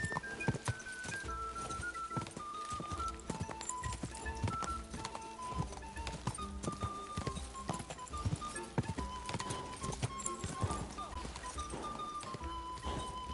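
Horse hooves pound in a fast, steady galloping rhythm in a video game, loud and continuous throughout, with a faint tonal sound running along underneath.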